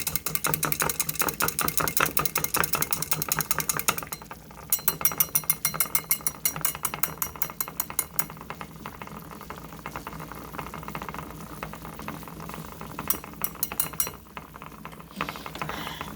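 A homemade hair growth mixture melts in a pot on the stove while being stirred: rapid, continuous clinking of a utensil against the pot, with brief pauses and a low bubbling bed underneath.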